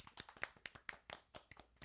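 A small group claps by hand in a quick, uneven patter of sharp smacks, faint and at a slight distance, with no voices over it.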